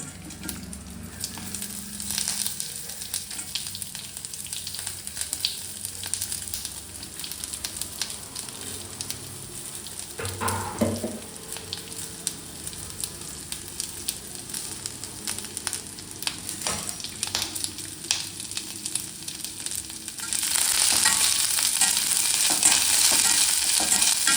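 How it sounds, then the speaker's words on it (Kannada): Garlic and onion frying in a pan for a Shivamogga-style greens dish, with a steady crackling sizzle, occasional stirring scrapes and a louder burst of sizzle toward the end. "ಬೆಳ್ಳುಳ್ಳಿ ಹಾಕೋತಾ ಇದ್ದೀನಿ, ಈರುಳ್ಳಿ ಹಾಕೋತಾ ಇದ್ದೀನಿ."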